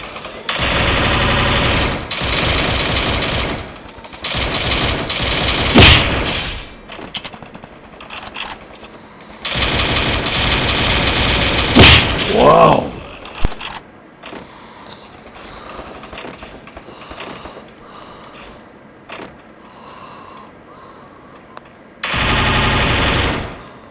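Automatic gunfire from the mobile battle game Free Fire rattles loudly in long sustained bursts, with pauses and scattered single shots between the volleys.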